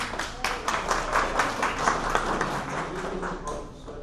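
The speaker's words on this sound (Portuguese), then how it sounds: "Vamos aplaudir, né?" Audience applause at a Moodle Moot Brasil 2012 session after an icebreaker game, steady dense clapping from a crowd for about four seconds, tapering slightly at the end, with some voices mixed in.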